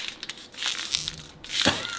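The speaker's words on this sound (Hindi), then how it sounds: "बोतल को कुछ इस तरीके से पकड़ना है और नीचे वाले हिस्से को घुमाने देना।" An empty plastic bottle is gripped and its lower half twisted to build pressure, giving crackling, crinkling plastic crunches in short bursts, with a sharper crunch near the end, close and fairly loud.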